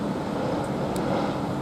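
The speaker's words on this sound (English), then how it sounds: "Now we've got another plane coming across" A plane passes over Luton Airport Parkway station as a steady, broad roar at moderate distance, holding even throughout with no voices.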